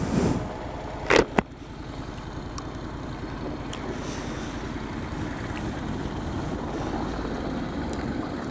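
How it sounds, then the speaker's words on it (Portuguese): A car passes on a street in Porto, a steady broad road rumble rising slightly and holding through the stretch, with a couple of brief sharp knocks near the start. "deixar passar aqui um carro"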